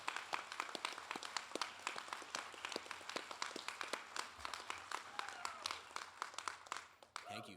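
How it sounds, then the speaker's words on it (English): Applause at a Boatswain's Mate A-School graduation for advisors, sponsors and instructor staff, a fairly quiet scattering of distinct handclaps from a modest gathering, irregular and continuous before fading at the end. "if the guests could please help me thank them for their efforts and giving them a warm round of applause"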